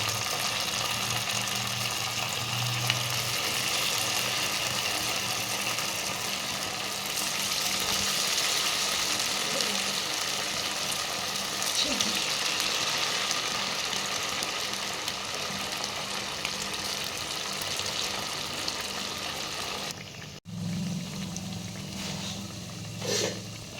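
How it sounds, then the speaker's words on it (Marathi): Sabudana vadas for a fasting snack deep-fry in hot oil with a steady, continuous bubbling and sizzling hiss. It keeps going at an even level for over twenty seconds, with a short clatter near the end. "आपले वडे तळले गेलेले आहेत तुम्ही पाहू शकता सगळे अगदी टम्म फुगलेले आहेत"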